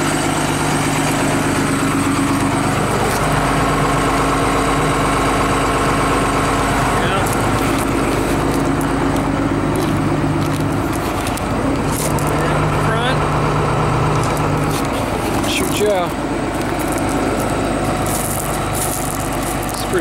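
A 1999 Thomas Saf-T-Liner 44-passenger commercial bus sits with its engine idling, a loud, steady low rumble that runs unbroken throughout while someone talks over it.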